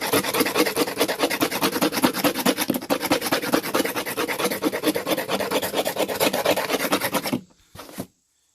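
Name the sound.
scraping plastic with a knife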